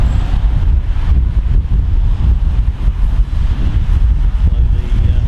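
Strong wind buffets the microphone outdoors in blustery weather, a loud continuous low rumble with gusty fluctuations throughout and no voices.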